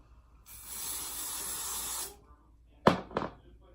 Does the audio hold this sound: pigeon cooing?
no